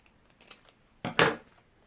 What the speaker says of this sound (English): I only have some dressmaking scissors handy at the moment